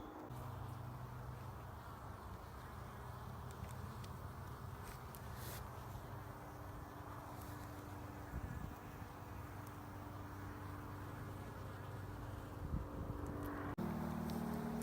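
Honey bees buzz steadily around a healthy hive in September, a continuous low drone of many insects close by, faint and unbroken with no talking.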